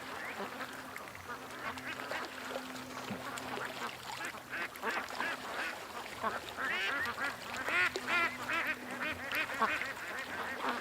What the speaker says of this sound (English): Nice clean ducks.